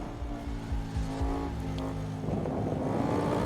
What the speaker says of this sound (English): V4 engine. Beautiful sound.